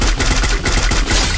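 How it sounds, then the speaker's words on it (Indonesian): Rapid automatic gunfire in a shooter video game rattles in fast, dense bursts for the whole moment, loud and close, with no talking. "Nah aku ditembak nih, aku ditembak."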